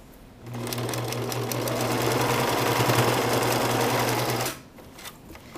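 A sewing machine stitches a seam on a homemade cloth pad, running steadily and close for about four seconds with a low motor hum and rapid needle clatter, then stopping.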